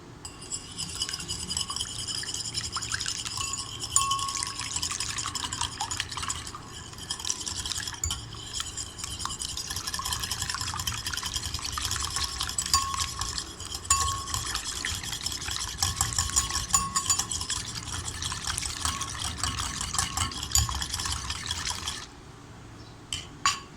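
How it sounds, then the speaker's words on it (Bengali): An egg is beaten for chocolate pudding, a continuous rapid whisking and clinking against the bowl that runs evenly and fairly close for about twenty seconds before stopping abruptly. "এখন ডিমটাকে ভালোভাবে ফেটিয়ে নেব।"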